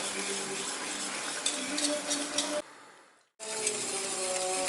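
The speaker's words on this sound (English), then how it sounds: "Stir, stir, turn your fire down and just stir" Bechamel sauce being stirred in a pot over the stove, a steady close scraping and soft bubbling sizzle that runs continuously, drops away briefly, then resumes.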